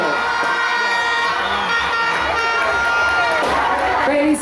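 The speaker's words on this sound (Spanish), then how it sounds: "¡Fuerte aplauso!" A festival crowd cheers and shouts for the newly elected festival queen, a loud, dense wall of voices and whistles sustained throughout, with a brief dip at the very end.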